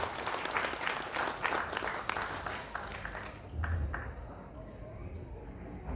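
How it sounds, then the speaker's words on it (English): An audience at a welcome ceremony for Ministry of Tourism, Arts and Culture officials in Genting Highlands applauds, a moderately faint wash of clapping that thins out toward the end. "Let's give them a round of applause"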